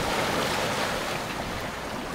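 Steady broadband rushing of wind over open sea during the calming after a storm, around 12-13 knots with gusts, with a continuous wash like surf or a hull moving through waves, no voices.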